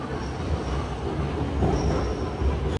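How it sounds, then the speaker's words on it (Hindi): Metro train pulling into a station in China: a loud, sustained rail rumble with squealing wheels that builds slightly as the cars arrive, with no talking. "अब ट्रेन आ चुकी है तो बैठते हैं।"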